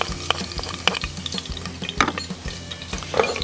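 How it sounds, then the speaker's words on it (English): Crushed garlic stirred around a pan for a margherita pizza sauce, a soft scraping and clinking of utensil on metal with a low sizzle running underneath, close and fairly quiet. "Mix this around real quick."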